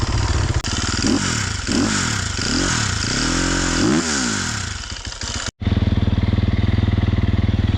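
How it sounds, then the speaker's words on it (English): A 2023 Sherco SEF300 four-stroke dirt bike on trails, its engine revving up and down in repeated close, loud bursts with gear changes, then settling into a steady idle. "first ride on the trails, sef300"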